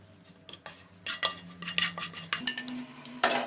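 Utensils clink and scrape in a pan while a spinach and mushroom pasta filling is stirred together, with several distinct clatters and scrapes close up amid a faint background hum.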